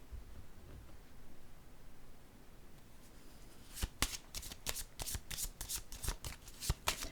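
After a quiet stretch of faint room hiss, tarot cards are shuffled and drawn in a quick run of close, crisp snaps and slaps.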